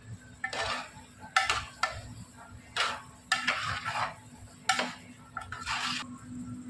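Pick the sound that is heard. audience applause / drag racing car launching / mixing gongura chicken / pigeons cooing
mixing gongura chicken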